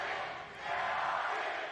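Esports arena crowd at a Valorant Champions match on Bind, a dense wash of distant cheering and roaring that dips briefly and then swells again over a short stretch.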